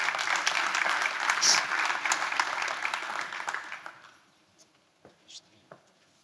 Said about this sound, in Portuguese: Um aplauso, por favor.